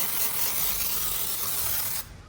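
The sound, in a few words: pump sprayer spraying onto car panel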